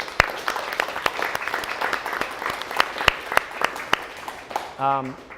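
An audience at a fireside chat event in a WeWork space applauds steadily, with sharp individual claps scattered through a dense wash of clapping, and a brief voice cuts in near the end.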